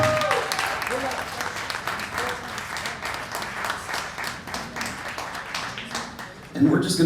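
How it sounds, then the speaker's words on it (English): An audience at a poetry book release claps and cheers as two performers are brought up, sustained applause with individual claps audible, voices mixed in and a louder voice breaking in near the end. "Give them a round of applause, man."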